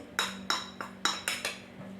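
A spoon knocks against a bowl in about six quick, clinking strikes while besan (gram flour) batter is mixed for jackfruit pakoda in a home kitchen.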